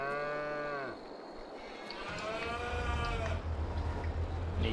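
Cows moo in the farming video game Farming Simulator 22: a long, clear low moo, then a second drawn-out call over rising farmyard ambience, with no speech.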